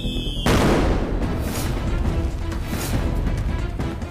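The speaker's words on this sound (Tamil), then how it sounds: "என்ன இப்ப போய் ராக்கெட் வெடிக்குது?" A firecracker rocket bursts with a sharp, loud crack after a brief whistle, followed by a crackling, fizzing burst and echoing pops that fade over several seconds.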